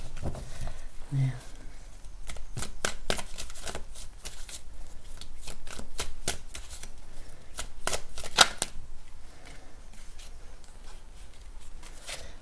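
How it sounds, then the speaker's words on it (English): Tarot cards being shuffled by hand, a steady crisp riffling and flicking of the deck close up that runs the whole time with brief pauses between bursts. "Just one more shuffle."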